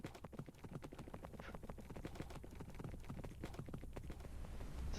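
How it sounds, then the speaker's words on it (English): Horse hooves in Minecraft Bedrock Edition, a quick run of crisp, evenly spaced clip-clop steps that carries on steadily and sounds faint overall. "can the horse stop moving around?"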